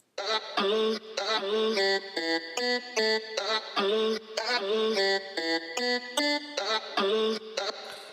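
A vocal sample flattened into a tonal synth-like line and pitched down 12 semitones, playing a choppy rhythmic melodic pattern of short stabs and held notes, loud and alone with no speech.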